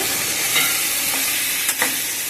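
Garlic sizzling in a hot pan while making gongura pachadi, with a steady frying hiss and a few brief scraping stirs, close and clear with no talk.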